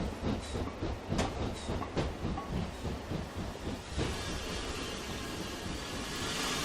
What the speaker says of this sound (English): Wow, that really is a very slow train.